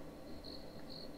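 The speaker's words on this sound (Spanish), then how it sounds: "Muy original lo de los grillos." Faint crickets chirping on a summer night in a soft, pulsing trill over a quiet low night hum, steady and distant.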